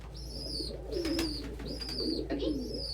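Pet pigeons or doves give repeated soft, low cooing calls, close and fairly clear, with a few brief higher chirps over a steady low hum and no talking.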